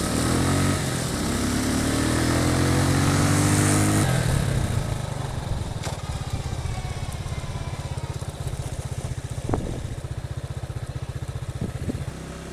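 A restarted vehicle engine, likely slightly flooded, runs steadily at a close idle on a Mongolian rally drive, with a higher rev at the start settling into a low, even rumble and a few faint clicks.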